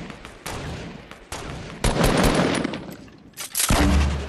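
Gunfire in the video game Fortnite, loud bursts of rapid shots and sustained spraying fire, close and harsh, broken by short gaps, with no talk over it.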